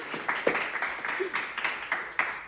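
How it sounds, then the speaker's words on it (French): A small group clapping and cheering indoors at a villa, scattered uneven claps with some voices mixed in, fairly faint. "Applaudissements,"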